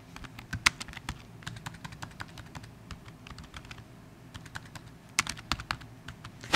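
Fingers typing a note on a computer keyboard, a steady run of close, crisp key clicks with brief pauses and a few louder keystrokes, alone in a quiet room.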